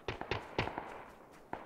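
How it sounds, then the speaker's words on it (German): Distant gunfire in PUBG: Battlegrounds comes as a few sharp, muffled cracks spaced irregularly, some doubled, with a faint echoing tail. No talk is heard over the shots. "Schüsse voraus."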